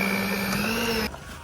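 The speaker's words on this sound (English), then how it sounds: "sometimes this hand mixer is also as stressful as mixing with your hand or kneading with your hand" An electric hand mixer works bread dough for cheesy garlic bread, a close, steady motor whir with a strained tone that cuts off abruptly near the end, leaving a quieter hum.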